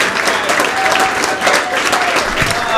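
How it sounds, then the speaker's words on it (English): Audience at a comedy club applauding, a dense, loud burst of many hands clapping together at close range, steady for a few seconds. "Clap for Alex Schubert."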